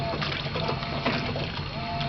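A GE Hydrowave washing machine fills with warm water, a steady gushing and splashing stream that runs without a break, loud and close, with no one talking.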